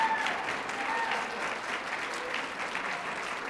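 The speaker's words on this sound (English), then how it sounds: "let's give these parents a round of applause." Audience applause at a university awards ceremony, a steady dense clapping from a large crowd that holds level throughout.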